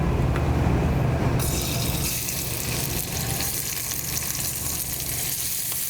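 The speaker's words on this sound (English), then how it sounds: "While we're frying this onion slightly" Steady oil sizzling fills the whole stretch, a dense crackling hiss as red onion fries in a pan, with no voices.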